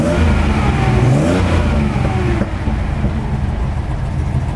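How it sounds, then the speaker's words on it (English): A 1977 Nissan Skyline Kenmeri's engine revs loudly up close at an auction, a deep rumbling roar swelling then easing to a steady idle. "Take a listen to this thing."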